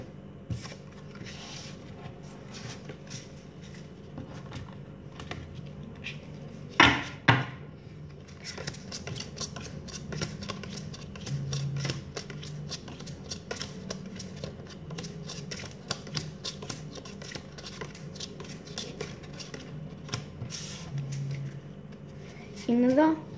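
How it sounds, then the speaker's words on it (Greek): A deck of playing cards being shuffled by hand during a card magic trick, with soft riffling and papery rustles running steadily through the clip alongside a few sharper handling clicks and a voice talking over it. "Τα ανακατεύω."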